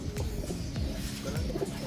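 A pigeon returned home to its loft coos softly nearby, low throaty rolling calls repeating over a steady background murmur, with a few faint higher chirps.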